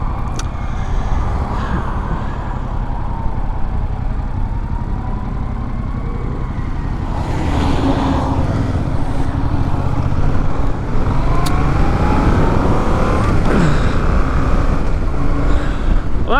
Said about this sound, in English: now I have a bunch of traffic